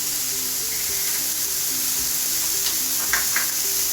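Thinly sliced fruit sautés in a pan for a sweet offering, giving a steady, close sizzle with faint tonal sounds in the background.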